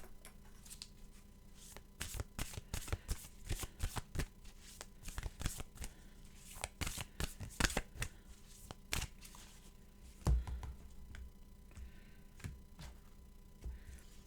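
Oracle cards shuffled by hand in a quiet room, a long run of crisp riffling bursts and soft flutters in an uneven rhythm, close and fairly quiet, with no talking.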